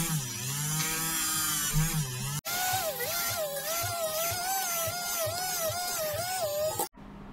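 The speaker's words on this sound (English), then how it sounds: "I'm just going to drill out the holes for the rockets" A small power drill whines in a wavering, continuous tone, pitch dipping and rising as it bites into a plastic model kit, with a brief break between runs.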